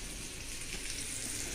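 Cauliflower fries in a pan with a soft, continuous sizzle, faint and steady throughout a short stretch with no talking.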